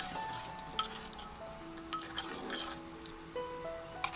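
Ada payasam with cardamom being stirred in a pot, with soft scraping and light clinks of the spoon against the metal rim plus a faint bubbling sizzle throughout, no talking.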